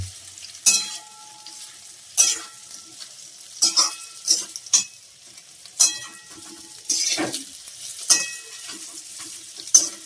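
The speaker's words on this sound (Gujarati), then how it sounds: "હવે આપણે જે બાફેલા મૂઠિયા છે અંદર નાખી દીધા છે હવે એને સારી રીતે આપણે મિક્સ કરી દઈએ" Boiled muthiya tossed in a pan with curry leaves, green chilies and sesame seeds, a series of sharp, close scraping and stirring strokes at irregular intervals over a light sizzle; no one speaks.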